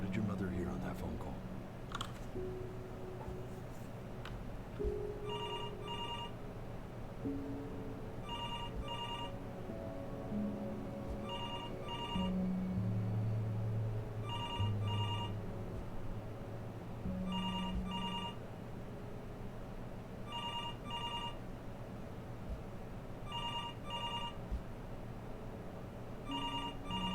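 A phone rings repeatedly in the video game Before Your Eyes, with regular bursts of trilling bell tones spaced a few seconds apart over low music and ambient tones, while a voice speaks in between.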